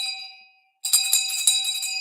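A shame bell rung in a sports radio studio, a bright metallic ring that decays to silence, then rapid repeated clanging rings, loud and close, with no talk.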